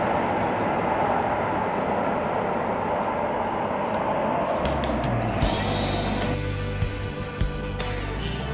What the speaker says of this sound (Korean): 저놈은 기차 진짜 자주 다니네.